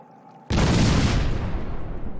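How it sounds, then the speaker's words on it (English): Fireworks lit inside a house go off in one sudden loud blast, then a sustained broadband crackling roar that stays dense and close for about two seconds. "Look at those fireworks."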